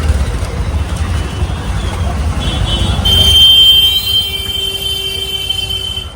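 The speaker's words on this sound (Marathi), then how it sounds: "आमची ट्रॅफिक गर्दी कायम" Busy road traffic rumbles steadily nearby, a low engine drone underneath with a rising whine and tonal squeal joining midway, continuous and fairly loud without speech.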